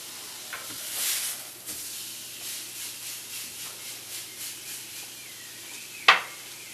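Steak searing in a hot pan as it builds a crust, with a steady hiss and sizzle that swells in gentle waves and a sudden sharp spit near the end.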